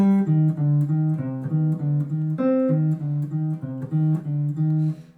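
A plucked jazz guitar plays a slow melodic minor phrase, notes stepping up and down with a repeated low pedal note between them, clear and close.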